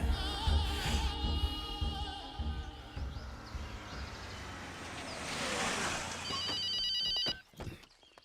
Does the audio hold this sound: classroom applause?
no